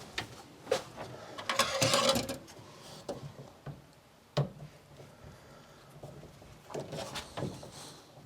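A screw being tightened on a connection inside an electrical panel during home wiring work, with a few bursts of close ratcheting and clicking metal followed by isolated knocks and taps.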